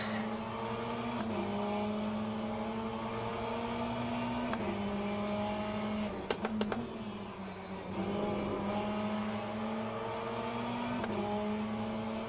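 A Ferrari 488 GTE races at Fuji in the game Le Mans Ultimate, its engine a loud, sustained high whine that shifts pitch through gear changes, with brief clicks midway and no talk.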